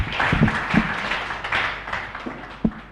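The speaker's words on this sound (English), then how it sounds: "Another round of applause for Gerald." Audience applause at a youth forum on democratic participation and sustainable peace, a steady wash of clapping from a room of listeners that carries on evenly for a few seconds, with a few sharper claps standing out near the end.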